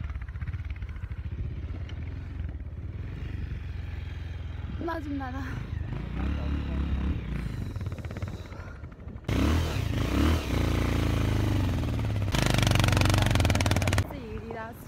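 A motorcycle ridden over a rough, badly maintained rural mountain road in Jajarkot, Nepal, its engine droning and straining with rattles and bumps, growing louder in bursts while someone speaks.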